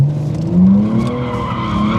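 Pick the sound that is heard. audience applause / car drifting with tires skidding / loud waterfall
car drifting with tires skidding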